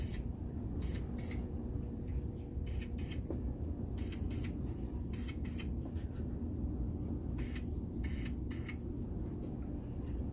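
Short bursts of a spray gun laying a coat of paint on a car part during a 2002 Lexus GS300 rebuild, about a dozen quiet hissing passes in irregular pairs over a low steady background hum.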